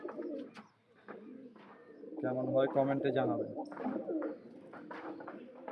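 Pet pigeons coo close by in soft, low, throaty rolls that swell in the middle, while someone talks over and around them.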